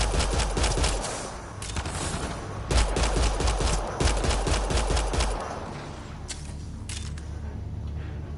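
Dense automatic gunfire from the video game Mass Effect: Andromeda, loud sustained bursts of rapid shots that thin out to a few isolated cracks near the end.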